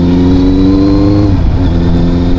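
A 2017 Honda CB650F motorcycle engine revs loudly and steadily while being ridden, its pitch shifting partway through, with no talk over it.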